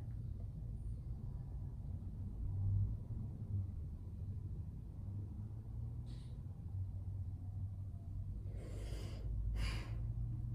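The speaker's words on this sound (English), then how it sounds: "I was not breathing, I needed to breathe" A person doing their eyebrow makeup takes a deep breath after holding it, with a quick inhale and exhale near the end, close and quiet over a low background rumble.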